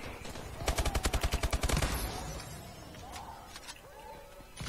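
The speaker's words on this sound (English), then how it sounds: "Don't use that shotgun." Rapid burst of shotgun blasts in a multiplayer shooter video game, about a dozen loud evenly spaced shots fired in quick succession, then quieter game ambience and scattered distant sounds.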